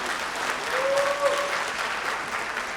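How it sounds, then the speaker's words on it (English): An audience claps steadily and warmly at a community partner spotlight event, a sustained round of applause filling the room. A few faint voices sound beneath it. "we should give a clap for that"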